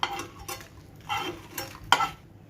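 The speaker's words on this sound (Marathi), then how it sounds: "आता इथे मी कराळ भाजून घेत आहे" Niger seeds (karale) dry-roasting in a pan over a low flame, several scraping stirs and utensil clinks against the pan in irregular bursts, with a light rustle of seeds between strokes.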